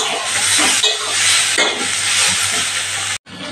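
Lata shutki, dried fish with greens, fries in a pan with a loud, steady close sizzle and hiss, briefly stirred, cutting off just before the end.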